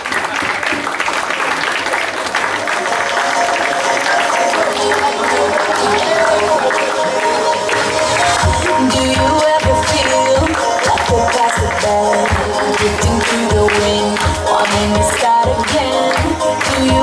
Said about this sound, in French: Allez, tout le monde applaudit, s'il vous plaît